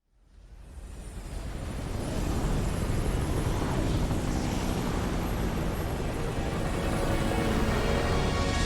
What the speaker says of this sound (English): Umbrella helicopters, good to know